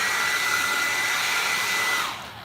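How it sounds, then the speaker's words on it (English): A hair dryer blows steady, loud hot air onto a custom Marvel Legends Silver Surfer action figure, a constant whooshing roar that holds for about two seconds before tapering off as it is switched away. "I'm just gonna use a hairdryer and add some heat to this bad boy"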